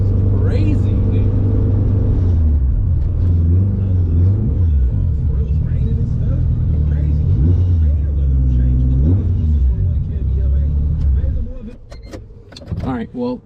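A 600 hp turbocharged K20 Honda Civic converted to all-wheel drive rumbles loudly as it accelerates, a deep, sustained engine drone heard from inside the car that tapers off near the end.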